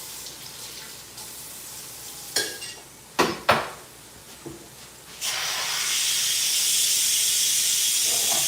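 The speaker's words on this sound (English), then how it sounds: "Our collard greens are done. I'm releasing the steam." Steam hisses loudly and steadily as a pot of cooked collard greens is vented, preceded by a few sharp clanks of the lid and utensils against the pot.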